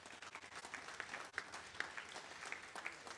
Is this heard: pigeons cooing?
no